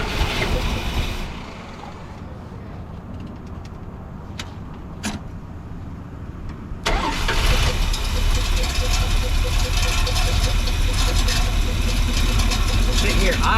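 A 1984 Dodge W150 pickup with a 360 LA V8 idles nearby with a low, steady rumble. A knock or clunk breaks in partway through, and the engine noise comes back fuller and louder afterward.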